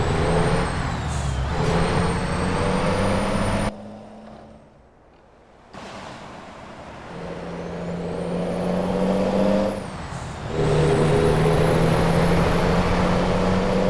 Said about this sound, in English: I am not used to this small truck.